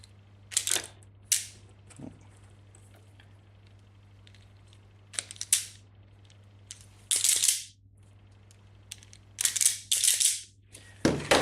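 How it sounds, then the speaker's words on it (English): Wire ends stripped with a hand tool, several short sharp snips and crunchy pulls in separate bursts, close and fairly loud over a quiet low hum, with no talking. "I'll just strip the ends of these."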